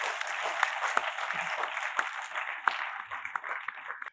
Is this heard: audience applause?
yes